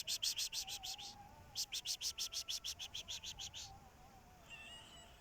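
A kitten mews in quick, repeated high chirpy bursts outdoors while fishing, two runs of rapid calls close by, with a fainter softer cry near the end.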